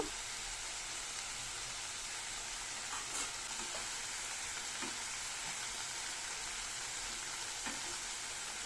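Vegetables frying in ghee, an even, steady sizzle with occasional small stirring taps, close but moderately soft.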